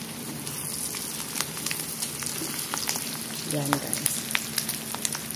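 Bicol Express with coconut milk and shrimp paste sizzles and bubbles steadily in a pan, with occasional stirring scrapes and a brief voice over the frying.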